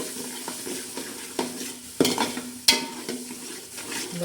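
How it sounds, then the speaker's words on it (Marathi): Red masala for a chicken and pea curry roasting in a pan, with a low sizzle under repeated scraping stirs and a few sharp spoon-on-metal clinks. "लालसर मसाला मस्त भाजला आहे असा चांगला मसाला परतून घ्यायचा"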